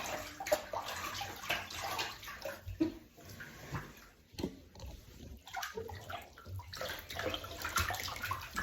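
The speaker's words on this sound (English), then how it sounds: "So now I'm going to rinse that off in the essential oil." Feet being rinsed in water, a soft splashing and sloshing with trickling pours that rise and fall in uneven waves, close and fairly quiet.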